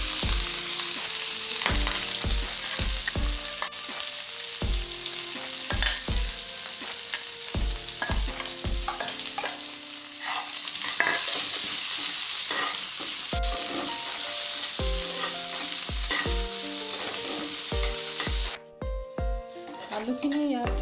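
Potatoes and onions frying in hot oil in a pan for masala dosa filling, a constant loud sizzle with regular clanks of a spatula stirring against the pan.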